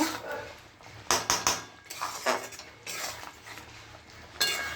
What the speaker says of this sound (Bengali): এবার নেড়ে একটু মিশিয়ে নেব।